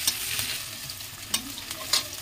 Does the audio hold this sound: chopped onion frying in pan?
yes